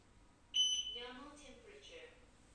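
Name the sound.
infrared thermometer high temperature alarm beeping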